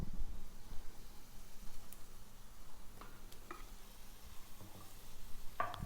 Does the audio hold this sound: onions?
yes